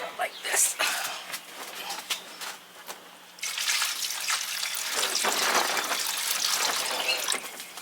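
Water running into seed trays to soak them, a brief splashing at first, then after a pause a strong steady gush and fill sound, close and continuous, with talk over parts of it.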